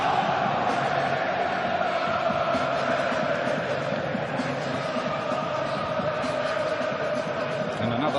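Dense stadium crowd roar at the Arsenal versus Chelsea FA Community Shield football match, a steady, loud wash of thousands of voices murmuring and calling out without pause, filling the whole stretch evenly.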